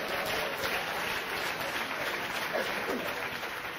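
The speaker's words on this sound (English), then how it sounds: "All you women must give a big clap to yourselves right now." An audience at a church conference session claps together, a dense, steady burst of applause that holds at an even level for a few seconds, with no voice standing out above it.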